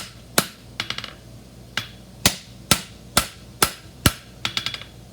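A hammer strikes a punch to make nail holes in a sidebone horseshoe, with about nine sharp, ringing metallic blows at a steady working rhythm, some followed by quick lighter taps, close and loud.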